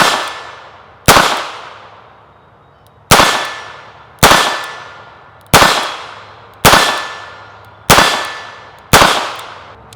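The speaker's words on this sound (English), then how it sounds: "Shooting a snub nose 22 revolver, double action only, from 15 yards back." A .22 snub-nose double-action revolver fires at a steel target from 15 yards, eight sharp cracks each ringing with a bright metallic clang, spaced irregularly about a second apart, loud and close, with no talking.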